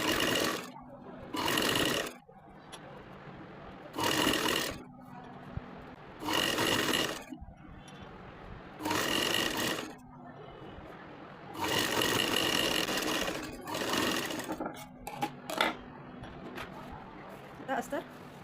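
A sewing machine stitching a small girl's skirt (parkar), running in repeated bursts of steady mechanical whirring separated by short pauses, with someone speaking in between.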